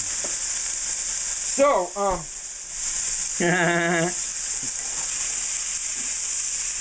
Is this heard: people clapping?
no